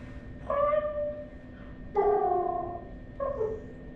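Three short, high-pitched meows from a kitten, close by, separated by brief pauses against a quiet background.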